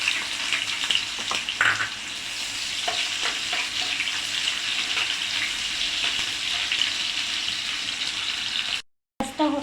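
About a cup of onion frying in hot oil in a frying pan for tilapia do-pyaza, a dense, continuous close sizzle with occasional clinks and scrapes, cutting out abruptly near the end.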